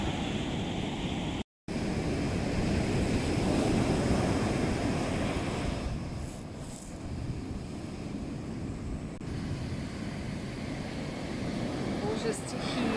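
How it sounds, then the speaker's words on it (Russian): Heavy surf of the stormy Mediterranean Sea crashes and roars continuously, with gusty wind buffeting the microphone and a brief dropout near the start. "Разбушевалось Средиземное море."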